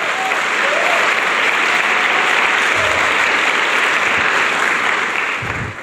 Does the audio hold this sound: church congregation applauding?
yes